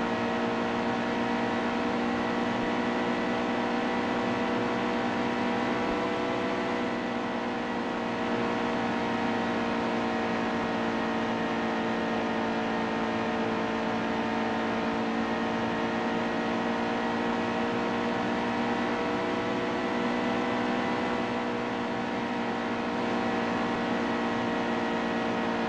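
Stock cars roaring around a track in NASCAR Heat 2, a steady, droning engine note held loud and unbroken throughout, with no talk over it.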